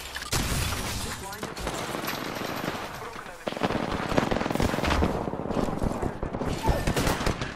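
Rapid automatic gunfire in an Apex Legends firefight, loud bursts of machine-gun fire with sharp cracks and a brief lull before the shooting resumes, with voices calling out over it.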